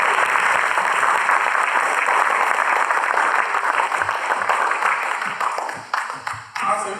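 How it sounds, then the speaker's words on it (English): Sustained audience applause for the teams after a school debate at Sheridan School, dense even clapping that holds for several seconds and then thins out and tapers at the end. "We give both teams another round of applause."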